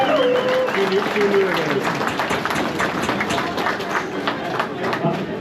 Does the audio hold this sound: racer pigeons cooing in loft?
no